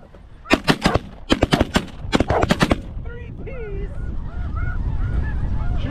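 Rapid volleys of loud shotgun blasts ring out in quick pairs and triplets at geese in extreme wind, followed by honking geese calling in the background.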